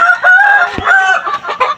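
Chickens and a rooster at a morning feeding, with loud, close crowing and clucking that overlap continuously from start to finish.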